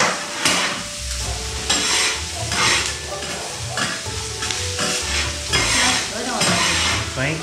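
Japanese fried rice with garlic and onions being stirred in a pan, making a loud continuous sizzle with repeated scraping and tapping strokes of the utensil, near and without talk.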